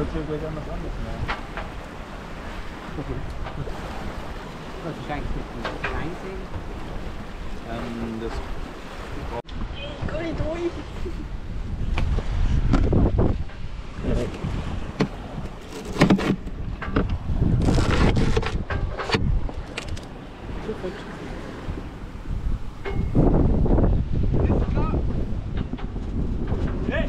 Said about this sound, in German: Hört sich gleich anders an,